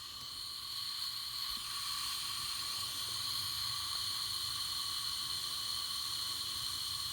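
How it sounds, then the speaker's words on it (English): Steady hiss of gas venting from an overflow valve as homebrew beer is bottled, a constant broadband rush running evenly throughout with a bright high-pitched edge and no pauses. "just going to crack this overflow valve"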